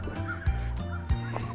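Turkeys and chickens in a foggy outdoor pen: close, steady throaty fowl calls with a couple of louder honking notes, no talking.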